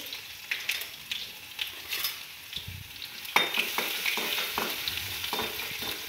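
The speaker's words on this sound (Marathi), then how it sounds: "थोडीशी मोहरी, थोडासा जिरा, कढीपत्ता, लसूण फोडणीला टाकायचे" Hot oil sizzles and crackles as mustard seeds, cumin, curry leaves and garlic fry, with occasional stirring clinks, growing louder partway through.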